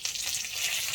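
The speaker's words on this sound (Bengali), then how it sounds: "সর্ষে কারি পাতা ভাজা হয়ে গেছে" Mustard seeds and curry leaves fry in white oil in a kadai for a tempering, a soft, steady crackling sizzle heard alone and at fairly low level.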